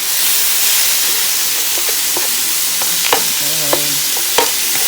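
A pan of picadillo filling with onions and cilantro sizzles and fries, giving a steady loud hiss with a few sharp scraping clicks from stirring scattered through it and no voices.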